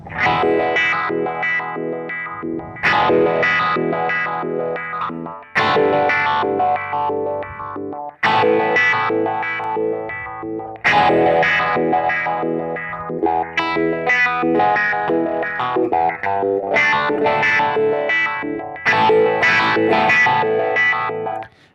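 Electric guitar chords through a Line 6 Helix Legacy effect, drenched in a pulsing, tempo-synced modulation, swirling and distorted, played loud in repeated phrases with brief gaps between them.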